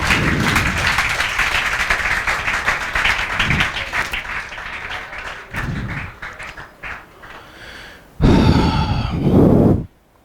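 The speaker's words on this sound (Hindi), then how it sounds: "अमन चिमानिया के लिए जोरदार तालियां बजाओ" Classroom students clap for a classmate in uneven bursts, loud at first then thinning into scattered claps with pauses, and a final loud burst near the end.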